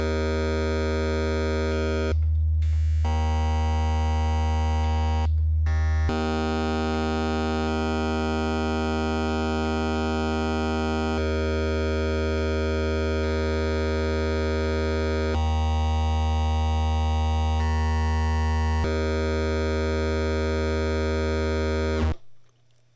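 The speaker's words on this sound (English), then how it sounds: "So, with the possibility of flipping individual bits of the original signal, we can build our own custom distortion effect." A custom digital distortion effect built by flipping individual bits of a signal, heard on a sustained, buzzing, harmonically rich tone that shifts in character across several examples with a couple of brief cutouts, loud and steady until it fades at the end.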